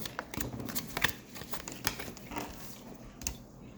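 Tarot cards shuffled by hand in a steady flurry of soft riffling slaps and flicks, close and fairly quiet, running throughout with no talking.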